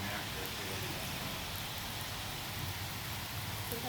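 Steady rain pours during a thunderstorm, a dense, even hiss close by with no distinct thunder, continuous and alone.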